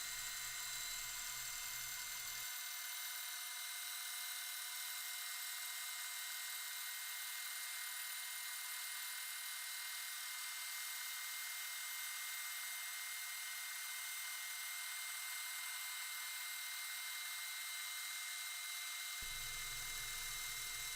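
A bandsaw rips strips from a wood board, a loud, steady high-pitched cutting roar held for most of the clip, with a low motor hum beginning and ending around it.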